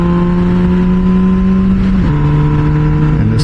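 MV Agusta Brutale 1000 RS naked motorcycle engine revving steadily with a loud, close, harmonic drone that dips in pitch partway through before settling lower, no talking.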